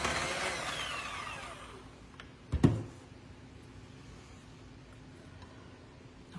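An electric hand mixer whirs through peach pound cake batter, its steady motor hum tapering off in the first couple of seconds, followed by a sharp clack and quiet background hum.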